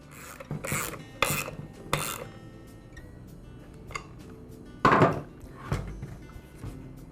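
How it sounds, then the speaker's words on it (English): A ratchet wrench tightens the nut on the flywheel of a Ryobi blower, giving several separate close clicking and clunking bursts with short quiet gaps between them. "I'll secure the nut with a ratchet wrench"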